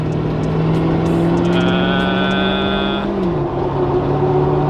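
A Ford Galaxie's engine drones loudly from inside the cabin, with a rising high turbo whistle building and then dropping away as the revs shift.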